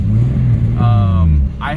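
A boosted turbo engine in a heavy Toyota Chaser accelerates hard, a loud, close, rising rumble with a brief shift dip near the end.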